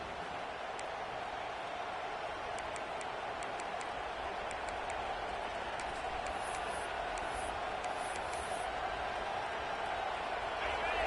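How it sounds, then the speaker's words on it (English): Stadium crowd in a college football video game, a dense, sustained roar of cheering during a fourth-down stand, loud and unbroken throughout with a few faint whistle-like peaks on top. "This crowd busting the decibel meter and trying to will a fourth down stop."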